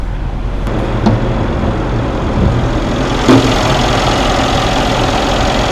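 The 5.5-liter twin-turbo V8 of a 2015 Mercedes-Benz S63 idles steadily close by, a deep continuous rumble with a couple of brief blips in its note.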